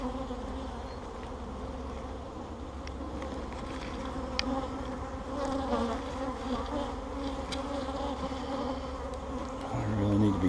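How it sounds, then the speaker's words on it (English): A dense swarm of agitated honey bees buzzes loudly and continuously all around at close range during a hive inspection, with no voices. "I am in a tornado of mad bees right now."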